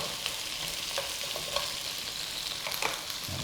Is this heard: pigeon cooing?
no